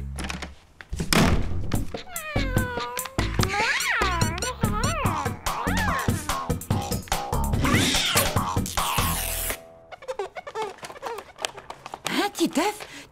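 Cartoon cat from the French animated series Titeuf, meowing and yowling in a string of close, loud calls mixed with thumps and other sound effects.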